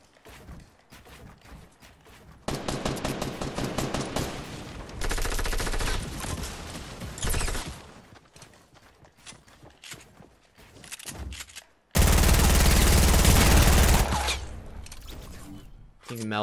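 Compact SMG fire in Fortnite comes in long rapid automatic bursts, loud and close, with footsteps and lighter game sounds between them and a player talking over parts of it.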